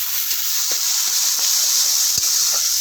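Ground spice paste sizzles and hisses steadily in a hot pan for a vegetarian coconut and pointed gourd curry, a close, continuous frying crackle with a few soft stirring taps.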